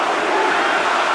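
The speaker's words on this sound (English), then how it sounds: "And the crowd cheering on" Arena crowd roaring steadily at an MMA fight in Brazil, Fabricio Werdum versus Mike Russow, a dense, loud wash of cheering voices with no break.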